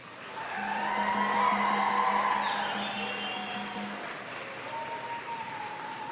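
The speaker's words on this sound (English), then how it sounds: "I invite you, the members of the graduating class, to reciprocate by applauding your family, friends, faculty, and staff" A graduating class at a June 2022 SFU convocation ceremony applauds their family, friends, faculty and staff: a sustained wash of crowd clapping that swells early and eases slightly, with a faint steady low hum underneath.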